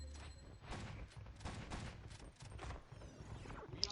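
Rapid bursts of shotgun fire from Space Marine-style squads in the Warhammer 40,000 strategy game Dawn of War: Soulstorm (UA mod), dense overlapping blasts rolling continuously for several seconds with a battle din underneath.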